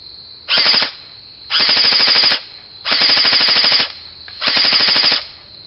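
An airsoft gun fitted with a tracer fires on full auto in four evenly spaced bursts, each a loud, rapid, buzzing rattle of shots about a second long, separated by short quiet gaps.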